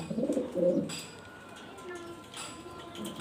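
German Beauty pigeons in Andalusian colour give a low, warbling coo up close at the start, then softer calls trail off with faint background noise.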